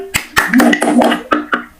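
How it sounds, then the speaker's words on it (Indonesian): Schoolchildren in a third-grade Indonesian lesson clap in rhythm to the action song "Kalau kau suka hati," several crisp claps spaced through the moment, mixed with children's singing voices. "Kalau kau suka, tepuk tangan."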